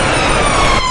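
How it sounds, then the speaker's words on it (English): An ambulance siren wails steadily and fairly loud as it passes through gridlocked city traffic during a street protest, with a continuous tone and no talk. "as we can see, ambulances still able to get through"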